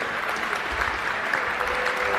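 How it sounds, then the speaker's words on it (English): Hand claps for the players after a men's football match between Chelsea and London GD: steady, sustained applause from a small crowd, even and unbroken throughout. "Hand claps all around, good support"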